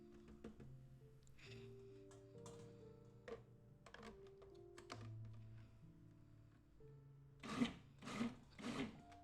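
A food processor chops dill pickles into relish, first as a low, steady motor hum and then as three short, loud pulsing bursts near the end.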